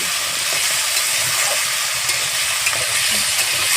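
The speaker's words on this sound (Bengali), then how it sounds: "আগে আমি আলুটাকে ভেজে নেব" Potatoes and mixed vegetables fry steadily in a pan, a dense, continuous sizzle with faint stirring scrapes, close and fairly loud, with no voices.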